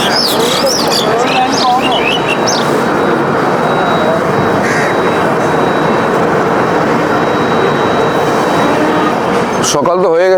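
The Howrah Puri Superfast Express (12837) runs with a loud, continuous rumble and rattle heard from inside the train. Brief squeals come early on, and there is a clatter near the end.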